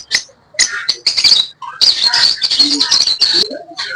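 Lovebirds kept as breeder pairs at a Sunday bird market in Islamabad give loud, close chirps and squeaky calls in quick irregular bursts with short pauses between them, and no voices are heard.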